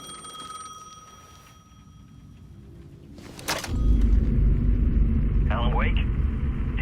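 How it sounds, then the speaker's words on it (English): A payphone rings in the video game Alan Wake 2, a thin repeated electronic ring heard early on, then a loud crash and a deep rumble take over. "The payphone was ringing again."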